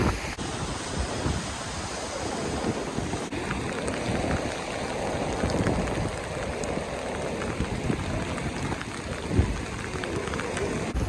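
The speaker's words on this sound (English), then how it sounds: "This rain's a little too much" Heavy rain pours down on an island beach with big waves surging in, making a dense, steady roar of hissing drops and crashing surf. It is loud and continuous throughout, with no voices.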